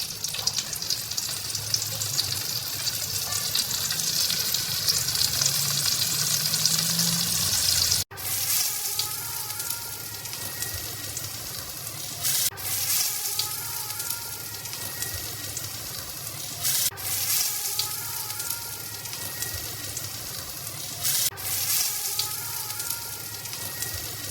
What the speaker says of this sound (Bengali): তারপরে পেঁয়াজ কুচি দিয়ে দেব। পেঁয়াজটাকে কিছুক্ষণ ভাজার পরে আমরা এতে রসুন এবং মরিচটা দিয়ে দেব।